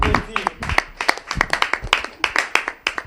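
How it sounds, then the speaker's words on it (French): A few people clap at a studio broadcast in separate, uneven, sharp claps instead of a full ovation, heard close up and mixed with voices talking over them. "On peut applaudir."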